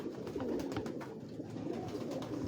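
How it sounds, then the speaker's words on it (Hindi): Alfan pigeons with white eyes and purple feet coo on a rooftop in Lahore, a continuous low throaty cooing from several birds close by, with no talk. "ये अलफनों के कबूतर है।"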